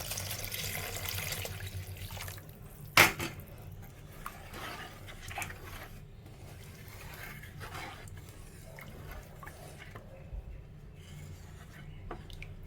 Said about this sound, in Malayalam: ഇതിലോട്ട് കുറച്ച് വെള്ളം കൂടെ നമുക്ക് ഒഴിച്ചു കൊടുക്കാം